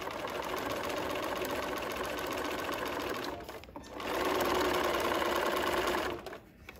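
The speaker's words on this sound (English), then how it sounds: "I am positioning the needle just so that my stitches, the straight stitch part always is along the edge" A sewing machine runs steadily for a blind stitch appliqué, giving a continuous mechanical hum and needle clatter, close and even, with a short pause before it speeds up again.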